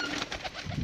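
Pigeons coo softly in a loft during a brief, close moment with no talking.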